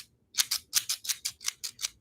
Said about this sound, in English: cheat and use scissors